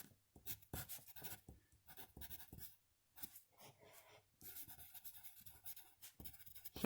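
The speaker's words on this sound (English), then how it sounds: "So we just write that in." Pencil scratching and scribbling on paper while sketching a chair design, quick strokes in bursts broken by short pauses, close and fairly clear with no talking.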